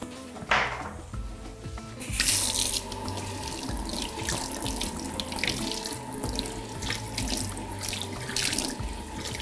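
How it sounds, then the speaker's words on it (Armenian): Rice being rinsed under a running kitchen faucet, a steady close rush of tap water into a sink with brief splashing and clattering from handling the grains, continuing for the whole stretch without talk. "Լվանում ենք հոսող ջրի տակ"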